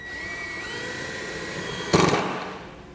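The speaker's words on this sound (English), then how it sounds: "You can grab an 11mm socket to drive it all the way through." Over a steady whine, a power driver fitted with an 11mm socket spins a tie-down hardware bolt home for an ATV E-track kit, with a sharp, louder burst near the end as the bolt seats.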